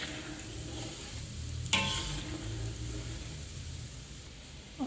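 Ketapang seeds being stirred and roasted in a pan give a steady low scraping and faint sizzle, with one sharp clack of the spatula against the pan midway.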